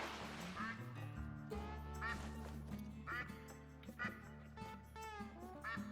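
Mallard ducks quacking in the hunting game theHunter at a Revontuli waterfowl hotspot, repeated quacks over a steady layer of game music and ambience.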